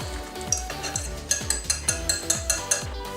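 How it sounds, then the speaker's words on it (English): Breadcrumbs are stirred by hand into eggs and brown sugar in a bowl, with about eight steady, rhythmic scraping strokes and small clinks close by, fairly soft and with no talk. "now we're gonna stir in the breadcrumbs"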